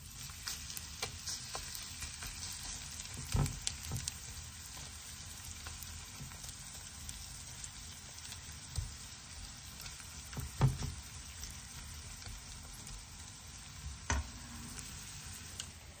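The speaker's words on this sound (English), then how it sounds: "So on the heated oil, you put 1 scoop of pancake mix." A scoop of kimchi pancake batter with radish leaves and leek sizzling in heated oil: a soft, steady crackle with occasional louder pops and taps from the pan, and no voices.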